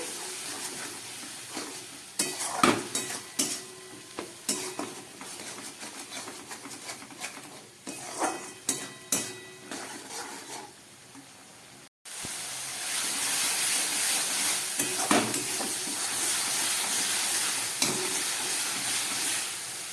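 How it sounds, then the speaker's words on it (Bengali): A spice paste of coriander powder, cumin powder and ground green chilli being stir-fried in a pan, with a continuous hiss and sizzle, intermittent stirring scrapes, and a louder, denser sizzle after a short break; no talking. "মশলাটা অনেকটাই কষানো হয়ে গেছে"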